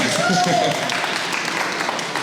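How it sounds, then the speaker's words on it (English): An audience claps at a civic presentation on downtown plans for Gary, a dense continuous patter of many hands, loud and close, with a voice briefly heard over the start. "I hear a clap there."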